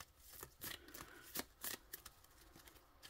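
A deck of playing cards being shuffled up close, a quick run of crisp riffling flutters and soft slaps, fairly quiet.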